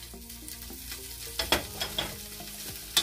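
Bacon frying in a hot pan with a little oil gives a steady close sizzle, broken by a few sharper pops and a utensil scrape near the end; nobody speaks.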